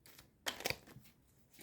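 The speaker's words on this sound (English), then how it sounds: "I'm gonna give them a nice little shuffle," A deck of playing cards being shuffled, with one quick riffle burst in the middle of a quiet, close-up moment and soft handling noises around it.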